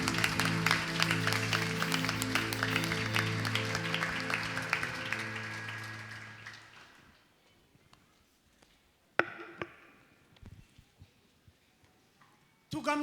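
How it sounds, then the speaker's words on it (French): A church congregation at a bilingual Sunday service in Androndrakely applauds loudly for about six seconds, a dense wash of clapping over sustained music, then fades to near silence with a few scattered sounds. "Est-ce qu'on peut acclamer le Seigneur très fort?"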